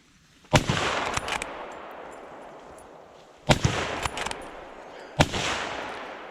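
Three sharp, loud rifle shots ring out at wild boar on a driven hunt, each a sudden crack followed by a long rolling echo, spaced a few seconds apart outdoors.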